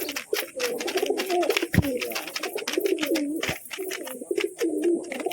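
Pigeons coo repeatedly in soft, throaty bursts, close by inside a loft, with light fluttering and scratching noises between the calls.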